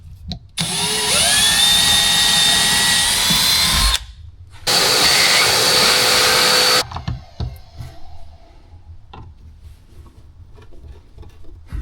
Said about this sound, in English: and we'll just drill this side.